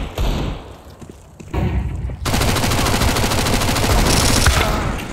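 Video game gunfire in a tactical shooter, with rapid automatic bursts and thuds, loud and dense, continuing almost without pause after a brief lull near the start.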